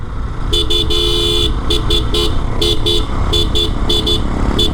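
A car horn honks repeatedly in short bursts behind a slow police vehicle on a road near Bandarban, with one long blast followed by a rapid series of toots over a steady engine and road rumble.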